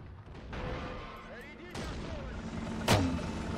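A German mortar in the Men of War: Assault Squad 2 game fires with a few dull booms amid distant battle noise, the sharpest near the end, while someone talks.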